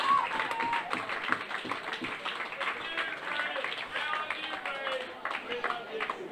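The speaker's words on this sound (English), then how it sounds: "So a round of applause for John as well." A crowd at a darts shootout event in Newbury applauds a player, sustained clapping and cheering filling the clip at a steady moderate level, with some voices mixed in.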